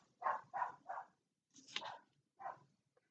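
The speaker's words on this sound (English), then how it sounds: "Here, my stupid dog." A dog barks indoors in a short burst of three quick barks, then a pause and two more, fairly faint and distant, with no talk over them.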